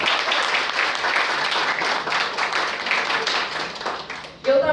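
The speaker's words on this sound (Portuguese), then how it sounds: "Então, uma grande salva de palmas para ela." Audience applause at a seminar in Porto Alegre, dense and loud clapping from a room full of people that carries on steadily for several seconds before a voice cuts in at the end.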